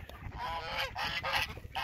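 Ducks calling at their evening feeding time, a run of repeated honking, quacking calls with brief gaps between them, fairly loud and close, with no talking over them.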